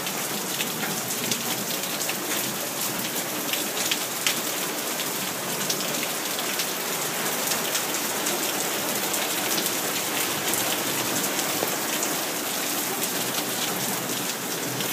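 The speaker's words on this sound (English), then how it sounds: "It is pouring down rain." Heavy pouring rain in a severe thunderstorm in Lancaster, California, a dense unbroken roar of drops hammering surfaces at close range for the full stretch, no talk.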